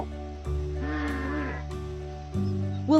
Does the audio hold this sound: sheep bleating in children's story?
yes